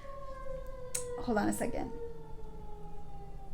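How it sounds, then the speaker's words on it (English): An emergency vehicle siren wails faintly in the distance as a steady, slowly falling tone, while a person speaks briefly over it. "here comes the sirens"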